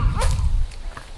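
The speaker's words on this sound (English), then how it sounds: "That was a dog, not a snake." A dog barks out in the bush, a short burst of one or two barks at moderate distance over low rumbling outdoor background noise.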